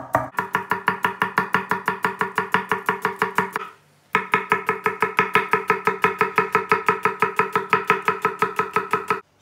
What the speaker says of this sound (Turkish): soğanlarımızı bir sote doğrayalım.